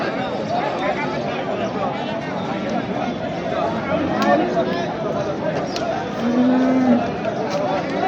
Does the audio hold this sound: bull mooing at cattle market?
yes